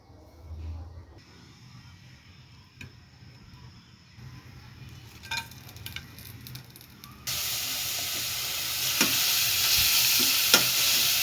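Grated carrot fries in ghee for carrot payesh, soft stirring scrapes and clinks giving way to a loud steady sizzle that swells in the later part, close by.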